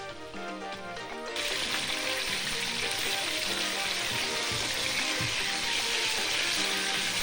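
Guinean beefsteaks sizzle steadily in a hot pan just after being flipped, a dense crackling hiss that swells after a quieter first second and then holds at a constant level, with no talking.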